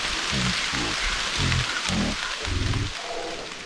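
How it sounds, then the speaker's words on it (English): Rain beginning to fall during a hammock camping backpacking trip in Linville Gorge, a steady broadband hiss of drops that stays loud throughout, with a deep rhythmic low thumping, likely footsteps or jostling, running beneath it. "guess who just felt raindrops? And they're picking up."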